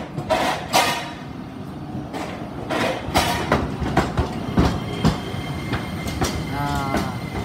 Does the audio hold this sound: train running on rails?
yes